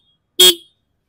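A TVS Ntorq XT 125 scooter horn gives a single short, loud honk of about a quarter second, bright and nasal with a strong tone, then cuts off into silence.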